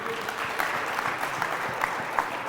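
Congregation applauding during a church sermon, a steady wash of hand claps filling the room with a few sharper peaks, loud and close throughout.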